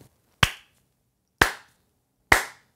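Three sharp hand claps in an untreated room, spaced about a second apart, each followed by a short, bright ringing tail of mid- and high-frequency reflections.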